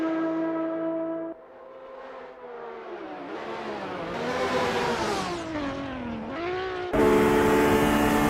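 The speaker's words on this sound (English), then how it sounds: "Each roar of the engine," BMW M1 Procar racing engine in Assetto Corsa, a loud sustained roar that rises and falls in pitch through gear changes and acceleration, with a sharp jump in intensity near the end.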